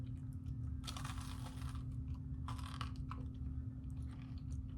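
Close, crisp crunching from someone chewing fried hushpuppies, in irregular bursts over a steady low hum.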